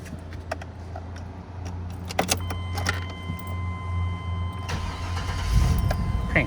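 A 1995 GMC Yukon 1500 with 70K miles: keys jingle and click near the ignition, then the engine cranks and catches with a low rumble at the end, close up and without voices.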